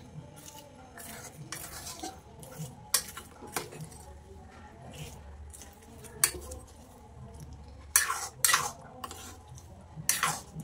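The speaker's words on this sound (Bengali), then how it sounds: "মাছগুলোর সাথে এবার আমি মশলাটা ভালো করে মাখিয়ে নেব।" Small puti fish being mixed by hand with a mustard and poppy-seed spice paste in a dish, giving soft, irregular squelching and scraping with a few sharper clinks of the bowl, close and fairly quiet with no talking.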